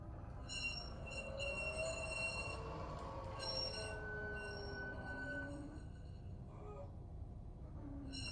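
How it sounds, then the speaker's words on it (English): Cornering squeal sound effect from a Zimo decoder in an LGB Weimar model trolley: sustained, fairly loud high whining tones run over a steady rumbling hum, with no talking. "F7 turns on the cornering squeals, and it only plays when the trolley is moving."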